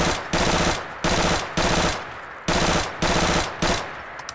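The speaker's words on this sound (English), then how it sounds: "let's take a look at how this gun shoots really fast" A PPSh-41 submachine gun from a Fallout 4 mod fires in rapid full-auto bursts, loud and close, with brief gaps between the bursts.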